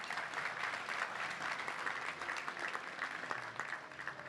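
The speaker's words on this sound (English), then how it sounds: "Round of applause." Steady applause from a banquet crowd at a Touchdown Club luncheon, many hands clapping at once at moderate distance, fairly quiet and unbroken.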